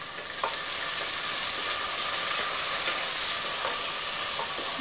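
Ginger-garlic paste and other ingredients for carrot rice stir-fry in a pan, giving a bright continuous hiss and sizzle with faint occasional clicks of stirring, loud and close with no talk.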